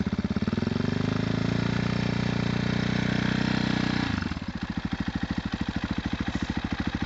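A KTM 525 RFS dirt bike, jetted slightly rich and started without choke, runs close by with a loud, rough rising drone that drops to a steady, pulsing thump at idle.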